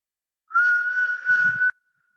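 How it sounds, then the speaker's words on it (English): A steady breathing exercise in which a slow exhale is pushed through a tiny mouth opening, making one clear whistle about a second long with a faint breathy rasp, close and alone, ending abruptly. "Breathe in through the nose, whistle out."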